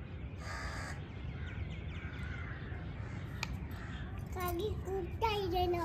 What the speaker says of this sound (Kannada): ಕಾಗೆ ಕೂಗ್ತಾ ಇದೀಯಾ?